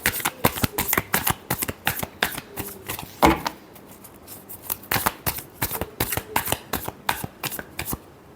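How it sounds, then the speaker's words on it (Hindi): Tarot cards are shuffled by hand in quick repeated riffling bursts, close and crisp, with a rhythmic patter of card slaps throughout. "Last shuffle."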